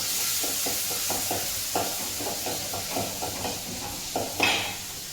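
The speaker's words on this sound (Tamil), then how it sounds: "வெங்காயம், தக்காளி, பச்சை மிளகாய், கருவேப்பிலை அது வச்சுருக்கேன். அதை போட்டு நல்லா வதக்கிட்டேன்." Onion, tomato, green chilli and curry leaves sauté in a pan with a steady sizzle, punctuated by a series of soft, rhythmic stirring scrapes and a brief brighter hiss near the end.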